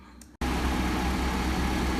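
A 2004 Honda Civic with a freshly repaired head gasket starts abruptly after a brief quiet moment, then settles into a steady, loud, close idle with no talk over it.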